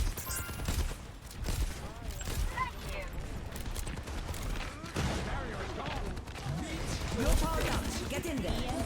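Rifle fire in an Overwatch-style video game, with bursts of shots scattered through busy combat noise as people talk over the action.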